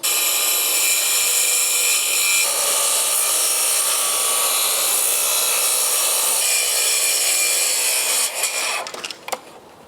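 A handsaw cutting a tapered scribe line through wood, with a steady close rasping drone for most of the clip before breaking into a few uneven final strokes and clatters at the end.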